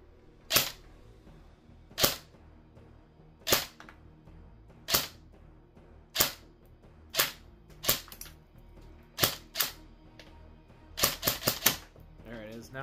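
E&C 417 airsoft rifle firing about a dozen sharp, close snapping shots, mostly spaced singly a second or so apart, then a quick cluster near the end, over a quiet background.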